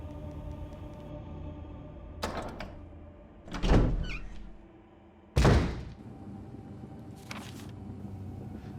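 A door in the Resident Evil video game opens with a creak and a heavy thud, then closes with a second loud slam a moment later, the pair standing out clearly over a quiet ambient background.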